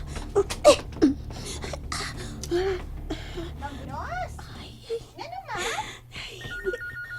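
A telephone rings in a living room, with a repeating electronic ring pattern near the end while people talk and gasp over it.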